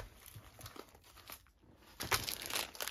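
Diamond painting supplies being repacked into crinkly plastic packaging, giving a run of close crumpling and rustling noises that grow louder and busier toward the end.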